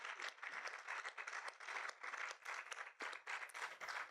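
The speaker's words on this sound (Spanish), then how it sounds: "un aplauso también para todos y cada uno de los participantes" Audience applause for costumed participants at an open dialogue event, scattered hands clapping fairly quietly and unevenly, with individual claps standing out in an uneven rhythm and no voices.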